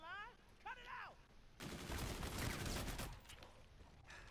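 Rapid bursts of gunfire rattle through a zombie fight in Call of Duty: Infinite Warfare, loud for over a second and then trailing off into scattered shots, with brief voices before it.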